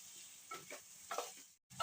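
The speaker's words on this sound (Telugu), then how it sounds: "ఎగ్స్ కూడా ఆయిల్లో ఫ్రై అయ్యాయి కదండి" Boiled eggs frying in oil with ginger garlic paste, giving a soft, steady sizzle with a few brief stirring clatters near the pan and a short break just before the end.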